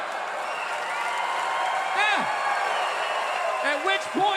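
Audience at a stand-up comedy show applauding and cheering, a broad wash of clapping and whoops behind a voice.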